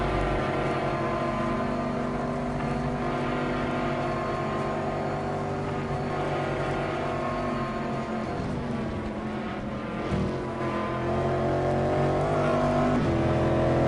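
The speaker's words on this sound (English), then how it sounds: "These cars have great sound." Racing car engines droning steadily at an endurance race, a continuous layered hum of motors with a faint swell as one passes nearer, distant and fairly quiet throughout.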